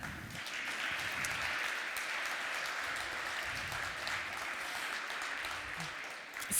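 A conference audience at LibertyCon in Prague applauds a guest, a dense, sustained roar of clapping from many hands that holds steady for several seconds before tapering off at the end.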